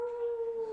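A person imitates a wolf howl very quietly, a single steady, clear tonal note held for under a second.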